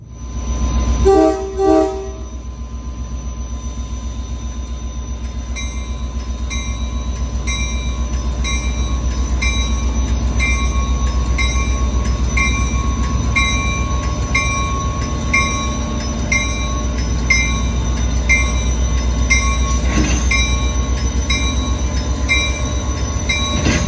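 A train rolls past up close, its loud steady rumble of wheels on rail running throughout, with a short horn blast near the start and a repeating clatter over rail joints; no one speaks.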